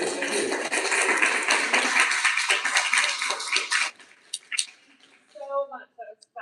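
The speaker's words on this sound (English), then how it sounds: "One more round of applause." Audience applause after a talk on marine-fuelled ecosystems in the Great Bear Rainforest, steady clapping for about four seconds that fades into scattered claps, followed by brief speech.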